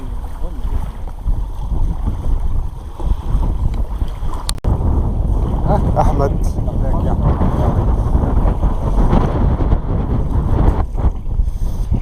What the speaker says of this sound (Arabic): هي المركب الصغيرة دي دلوقتي جايبها